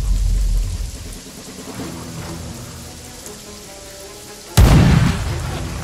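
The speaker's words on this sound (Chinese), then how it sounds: "又爆炸嘅喂？" A single sudden, loud explosion in the video game Jagged Alliance 3 bursts out near the end over a rain-like, rumbling ambience, then decays quickly.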